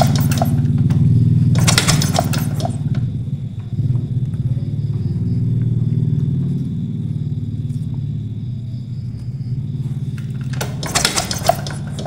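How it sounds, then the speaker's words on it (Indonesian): A Honda Supra 125 motorcycle is kick-started without firing up. Two loud, brief scraping bursts from the kick start sound at the beginning and near the end over a steady low mechanical rumble. "Ini kita engkol Pak ya."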